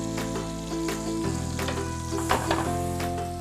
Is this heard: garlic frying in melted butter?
yes